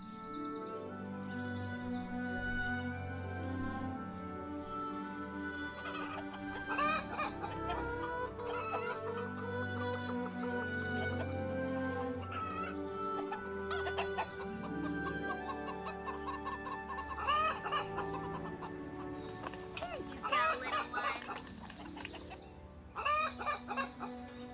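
Chickens cluck steadily and close by, with overlapping calls and an occasional rooster-like crow throughout a busy, continuous flock soundscape.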